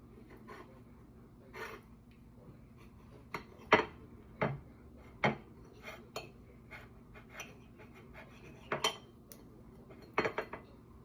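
Knife slicing a peanut butter and jelly sandwich on a plate, a series of sharp clinks and scrapes of metal on dish at irregular intervals, close and clear.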